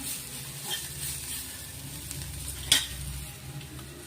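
Cashews fry in ghee with cumin and asafoetida in a pan, giving a soft, faint sizzle with a short clatter of stirring partway through.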